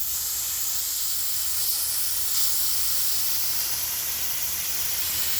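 A water sprayer washing a pool filter cartridge makes a continuous, even hiss of spray that stays close and steady with no talking.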